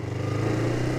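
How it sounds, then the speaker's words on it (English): Kawasaki Ninja 250R motorcycle pulling away, heard as a brief, steady, close engine drone with a slight rattle. "Remember, you can hear the engine's purring."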